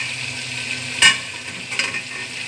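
Chicken pulao sizzles steadily in a pot while a spoon stirs it, with a sharp scrape of metal and then a softer second knock over the constant frying hiss.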